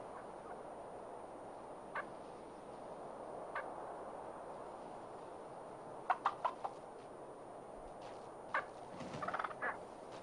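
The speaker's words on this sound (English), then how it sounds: "A flock of Merriam's wild turkeys forages on acorns and seeds" A flock of Merriam's wild turkeys foraging on acorns and seeds in the autumn pine woods of northern New Mexico gobbles in short, distant bursts, a few isolated calls and then quick clusters of clucks over a soft, steady background.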